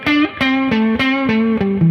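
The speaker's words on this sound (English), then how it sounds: "That's just a plain Fender Deluxe amp" An electric guitar played through a plain Fender Deluxe amp with spring reverb and no compression, a short run of distinct, bright picked notes, close and uncompressed, each attack sharp and decaying naturally.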